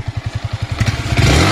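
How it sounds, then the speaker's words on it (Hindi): A Yamaha MT-15 motorcycle engine idles up close with a steady, rapid thumping putter, growing rougher and louder near the end as it revs slightly. "एक बार इंजन की साउंड सुना दो"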